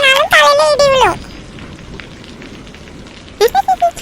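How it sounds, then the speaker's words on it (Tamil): Steady rain falls outside, a broad hissing patter that runs through the whole moment, with a voice talking loudly over it at the start and again near the end. "வெளியே என்ன மழை பெய்யி?"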